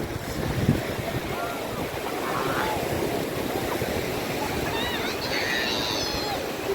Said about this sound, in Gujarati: જો મોજા સરસ આવે છે